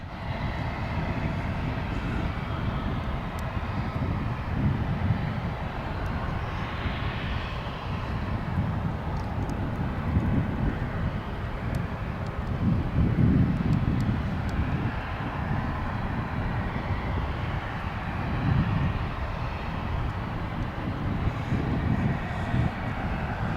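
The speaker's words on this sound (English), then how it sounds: "the incoming Qatar cargo flight from Atlanta" A Qatar cargo plane arriving from Atlanta at DFW airport roars steadily with a broad, rumbling jet-engine drone that swells and fades slightly, heard at a distance with no talking.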